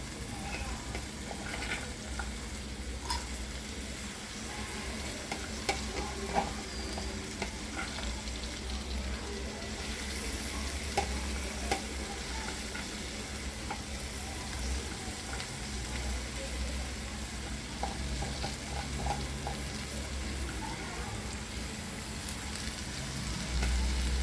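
A capsicum and potato curry with methi sizzles steadily in a pan for a long stretch, a soft continuous frying hiss with faint scrapes and taps of stirring throughout.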